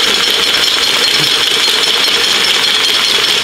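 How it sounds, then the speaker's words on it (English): A paint can shaker machine running close and loud, a dense continuous mechanical rattle and grinding buzz at an even level throughout, with no talking. "We're shaking up paint cans."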